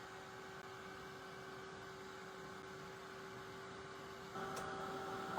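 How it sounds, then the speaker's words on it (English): A blow dryer runs steadily as it dries paint on a clipboard, a constant whooshing hum with a slight step up in level near the end. "hit it with the blow dryer."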